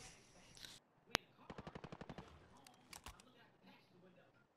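Gunfire in the video game Call of Duty: Modern Warfare: a sharp single shot, then a rapid burst of about ten evenly spaced shots, then two more loud cracks, with quiet game ambience and faint background voices.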